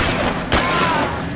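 A shotgun blast lands as a headshot during an L.A. Noire bank shootout: one loud broadband boom cuts through the noisy firefight, with a ringing tone trailing after it.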